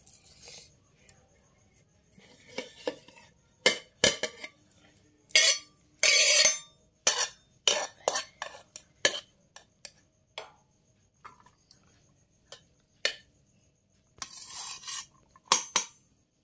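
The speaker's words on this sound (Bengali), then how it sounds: "আলু সিদ্ধটা ভালো করে মেখে নেব শুকনো লঙ্কা দিয়ে" Boiled potatoes mashed with hot rice and dried chilli on a plate, scattered clinks and scrapes of fingers and plate coming in irregular bursts, close and intermittent with quiet gaps.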